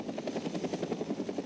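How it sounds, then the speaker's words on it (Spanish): A helicopter flies close by, its rotor beating in a steady rapid rhythm with a loud continuous engine roar and no talk over it. "nos vamos a ir al cielo en un helicóptero de estos"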